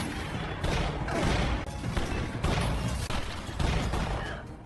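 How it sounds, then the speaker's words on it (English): A rapid volley of loud gunshots cracks out at night in bursts, the blasts overlapping into a dense, continuous barrage with no voices. "Gunshots ring out, tearing the quiet night."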